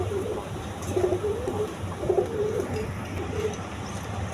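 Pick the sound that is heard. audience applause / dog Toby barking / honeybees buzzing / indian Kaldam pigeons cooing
indian Kaldam pigeons cooing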